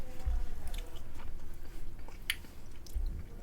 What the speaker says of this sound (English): y'all want to hear me chewing the mic or y'all want to hear the video?